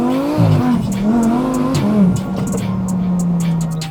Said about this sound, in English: That's what you're gonna have when you have a V10 twin turbo screaming away.